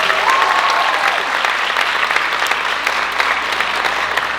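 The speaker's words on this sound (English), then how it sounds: "Big round of applause for CJ." Loud, steady applause from an audience at a college Mr. Juniata pageant, dense clapping continuing throughout, with faint cheers mixed in.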